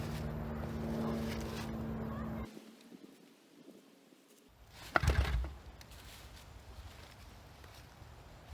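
A Honda ATC200 three-wheeler engine is pull-started: a steady droning run for a couple of seconds cuts off into near silence, then one sharp, loud cranking burst follows, dying back to quiet background noise.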